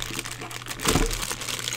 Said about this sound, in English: Big giant sheet of bubble plastic.